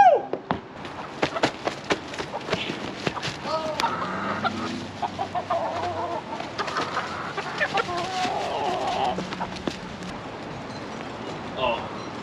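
Chickens cluck and squawk in a busy, overlapping burst while they are chased and caught by hand, with sharp flapping and scuffling noises and people talking and shouting over the flock.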